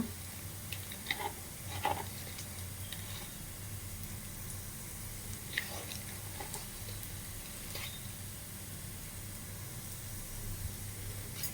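Food roasting and sizzling in a pan, a faint steady hiss with a low hum and occasional soft clicks and taps of stirring.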